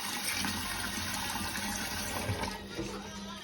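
Water pours steadily into a bowl of lentils set to soak before cooking a lentil stew, a continuous close splashing rush lasting the whole moment with no talking over it.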